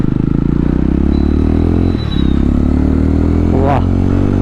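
A Jawa 350 motorcycle cruising in fourth or fifth gear, a loud, close, steady engine drone with a brief dip and shift midway, while a rider talks over it.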